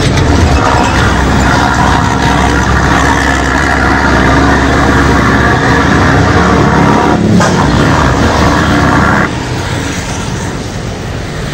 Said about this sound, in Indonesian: Ada dump truck. Tronton Hino 500.